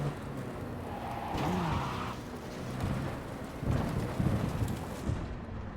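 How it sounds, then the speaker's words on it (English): A video-game thunderstorm of heavy rain rolls on with deep thunder rumbles swelling and fading. The whole scene is fairly quiet and distant, with no talking. "That is one hell of a storm!"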